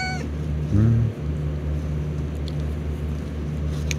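A small female house cat gives one short, high squeaky meow up close over a steady low hum of background game audio, with no speech.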